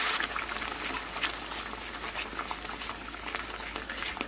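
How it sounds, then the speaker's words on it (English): Water gravy comes to a rolling boil in a pan, giving a steady, close bubbling and popping with a constant frothy hiss and no voices. "Give it a minute to get a good rolling boil all the way across the top of it."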